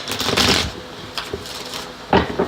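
Tarot cards being shuffled by hand, with two bursts of crisp riffling and flapping separated by a stretch of quieter shuffling and soft taps, close up and with no talking.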